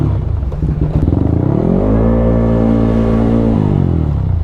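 A warmed-up 215cc Aerox scooter with a worn, loose ball race idles roughly, then rises into a steady held rev with a strong droning engine tone that settles back down near the end, close and loud with no talking.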